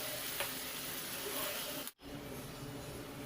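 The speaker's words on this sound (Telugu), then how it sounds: "ఒక 5 minutes ఇలానే ఫ్రై అవ్వాలి" Spinach chicken fry sizzling steadily in a pan, a continuous close crackling hiss with a brief dropout near the middle before the frying resumes.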